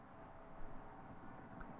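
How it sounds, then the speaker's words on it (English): A faint, steady distant-highway ambience from Kentucky Route Zero, a low, continuous rumbling wash of far-off traffic with no distinct events and no voices. "Distant highway."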